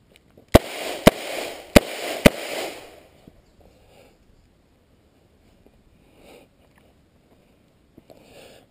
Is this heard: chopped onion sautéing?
no